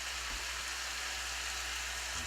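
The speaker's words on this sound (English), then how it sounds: "I'll start to sizzle up real quick. The pan's hot." Water poured into a hot pan gives off a steady, even sizzle with a soft hiss that stays constant throughout, with no voices over it.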